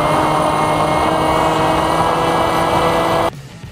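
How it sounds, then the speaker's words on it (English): The electric motor of a Krossblade SkyProwler 2 drone drones loudly and evenly at cruise throttle, a steady high whine that cuts off abruptly near the end, leaving quieter background. "You could hear the motor throttle up there"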